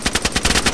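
Automatic gunfire in the video game DayZ Standalone, a rapid, evenly spaced burst of close, loud shots filling the whole moment.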